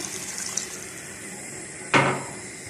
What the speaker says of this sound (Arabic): هحط الميه